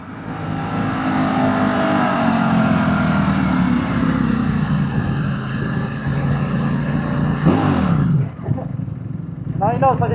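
Aprilia RSV4 1100 Factory motorcycle on a top speed run, the engine droning loud and steady at high revs with wind rush, then a sharp gear change and a rising rev near the end.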